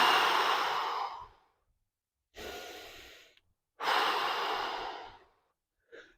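Three long, steady exhalations during a side plank exercise, each lasting over a second with quiet gaps between, close and clear with no talking.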